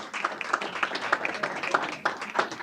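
A small group at a school board meeting claps for student performers from a school musical production, giving a sparse round of distinct individual claps at moderate volume with no one speaking.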